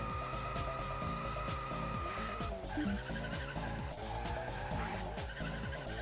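Rally car in Colin McRae Rally 2.0 driving in fifth gear on a straight, its tyres spinning up with a sustained squealing whine over a steady engine drone, close and fairly loud, with no voices.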